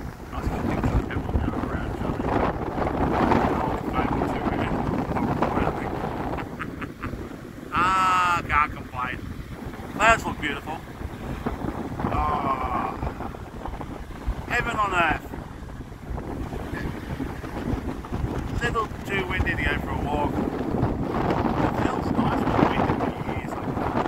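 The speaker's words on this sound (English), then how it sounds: "It's warm and windy." Wind blowing steadily at a lakeside on a warm, windy day, a continuous rushing roar buffeting the microphone with occasional gusts, a voice talking intermittently beneath it.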